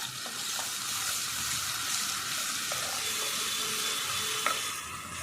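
Onion, ginger and garlic paste frying with nigella seeds in hot oil for a curd tilapia fish dish, a continuous close sizzle with a few light utensil taps and stirring sounds, no voices.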